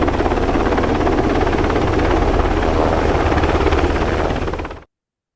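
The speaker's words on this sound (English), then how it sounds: "we like the sound of the helicopter" A helicopter's rotor chops loudly and steadily nearby, then cuts off abruptly near the end.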